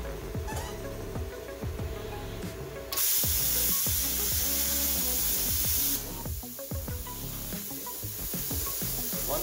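A plasma cutter slices a steel tube for a home-built trike in a garage, giving a loud, steady hiss that swells sharply for a few seconds over a busy background.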